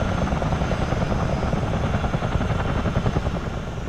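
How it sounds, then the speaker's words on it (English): Continuous rapid rotor thumping from a model CH-47 Chinook twin-rotor helicopter, steady and fairly loud with a whining, choppy texture. "We get Chinooks flying over our house fairly frequently, and this is exactly what they sound like."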